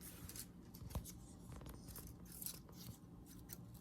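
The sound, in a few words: scissors trimming wires on a painted pinecone wreath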